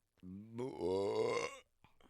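A single long, loud burp, deep and croaky at first, then rising into a drawn-out, strained tone before cutting off, with a faint mouth noise afterward.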